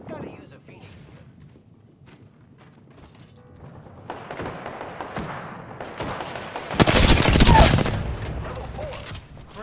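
Video game firefight with gunfire building from scattered shots into a loud, dense burst near the end, with a voice talking over the action.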